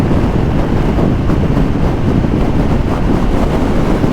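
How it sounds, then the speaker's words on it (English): Strong, steady wind buffeting a GoPro microphone on a KTM Super Duke motorcycle, a constant low roar and rumble with no breaks, loud and close throughout. "it is very windy out today."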